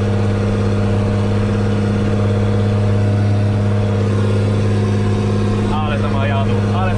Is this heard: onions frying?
no